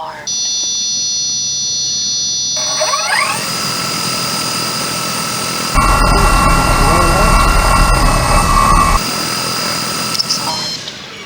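Small 3D printed drone motors idle on the ground during a maiden flight test, giving a steady, high-pitched whine with tonal layers that swells louder for a few seconds midway before easing back.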